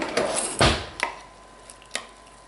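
Garlic and jalapeños in a kitchen chopper, a few close, sharp chopping knocks and clacks spaced irregularly, the loudest near the start, then quieter taps, without speech.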